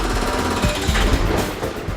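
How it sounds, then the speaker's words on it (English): Small mobile jackhammers smash out the concrete roof and walls of a subway tunnel at New York's South Ferry terminal, hammering in loud, rapid, uneven bursts close by. "Small mobile jackhammers are smashing out the concrete roofs and walls of the subway tunnel"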